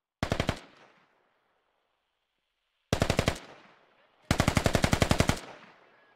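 Automatic gunfire from a tower in the tactical shooter game Squad, three loud close bursts of rapid shots, the last one longest, each trailing off into a fading echo with silence between.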